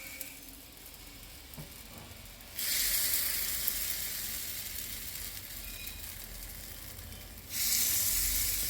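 Raw vegetables fry in coconut oil on a low flame, a soft crackling sizzle that surges louder as more go into the pan, then eases and surges again near the end, with no talking.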